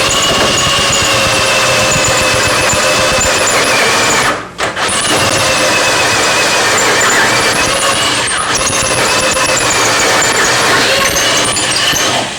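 A loud, steady mechanical whine of a power drill with a long bit running continuously through an aircraft kit part, with one brief pause partway through before the grinding drone resumes.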